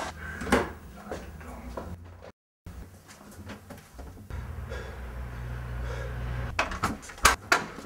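A flat's door opens and bangs as someone barges in, with a few sharp knocks and rattles up close and a brief silent gap, while people talk around it.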